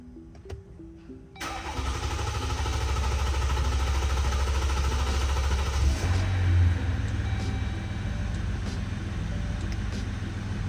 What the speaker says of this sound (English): expect a long crank time